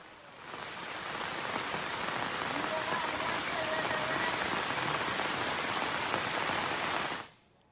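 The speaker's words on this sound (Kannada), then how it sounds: "ಉತ್ತರ ಕನ್ನಡ ಜಿಲ್ಲೆಯಲ್ಲಿ ಸುರಿತಾ ಇರುವಂತಹ ಧಾರಾಕಾರ ಮಳೆ" Heavy rain pouring steadily in Honnavar, Uttara Kannada, a dense continuous hiss of drops that holds even throughout before cutting off.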